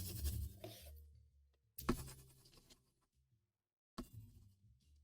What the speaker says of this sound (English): I'm writing it down now.